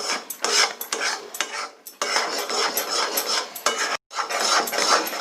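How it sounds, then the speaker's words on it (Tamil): Mysore pak batter being stirred in hot ghee and oil, a continuous loud scraping and clattering of a spoon against the pot, with brief pauses between strokes, close up. "இதே மாதிரியே நான் எல்லாத்தையும் விட்டுட்டு கிளற போகிறேன்"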